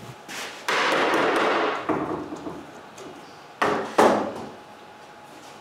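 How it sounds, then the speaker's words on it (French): Clamps being set on a glued wooden bathroom vanity, with loud woody knocks and clunks, a sustained rattling scrape, then more sharp thuds close by. "Ensuite, je mets un paquet de serre."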